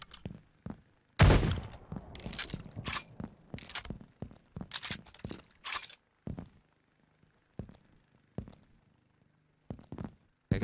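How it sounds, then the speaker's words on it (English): Gunfire in the battle royale video game Mini Royale: sharp shots and short bursts crack out irregularly, dense at first, then sparser single shots with quiet gaps between them. "He's firing."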